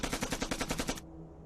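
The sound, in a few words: gunfire from two guns in a Hindi movie battle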